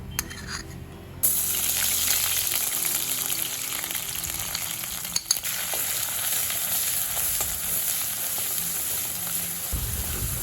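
Ginger-cumin paste and chili powder hit hot oil after a quieter spice tempering, bursting into a loud, sustained sizzle with a single sharp clack in the middle.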